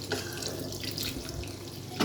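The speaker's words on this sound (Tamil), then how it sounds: "இதில் தண்ணி ஊற்றிக்கலாம்." Hot water poured into cooked, mashed rice and dal in a pot for sambar rice, a soft continuous pouring splash at close range with no talking.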